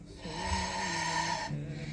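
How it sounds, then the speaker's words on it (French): A long, audible exhale during a Pilates shoulder elevation, a breathy, slightly rough sigh lasting nearly two seconds, close and soft, with a faint voiced tone underneath. "On expire sur l'élévation."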